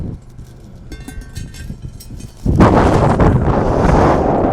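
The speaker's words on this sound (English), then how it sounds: "But it's windy. Extremely windy." Strong wind on the Skeleton Coast in Namibia buffets the microphone, starting as a steady rumble and then surging much louder and rougher for the last couple of seconds.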